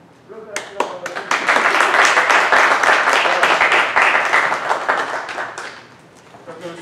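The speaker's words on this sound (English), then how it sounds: "thunderous applause" Enthusiastic audience clapping at a university choir fall concert, starting with a few scattered claps and swelling into dense, sustained applause before tapering off.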